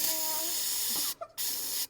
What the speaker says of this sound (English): All right, get some action sauce. Spray that up in there.